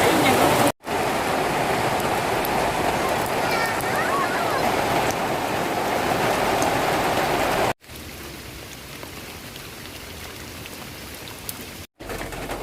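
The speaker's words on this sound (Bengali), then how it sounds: "দেখেন এত সুন্দর বৃষ্টি হচ্ছে" Heavy rain pours down steadily outside a kitchen where pakoras are being fried. The rain makes a dense, even hiss, broken by a few brief silent cutouts.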